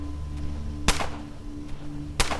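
Two sharp single gunshots from the video game Underrail, spaced about a second apart, each a loud crack with a short decaying tail over a low steady game hum.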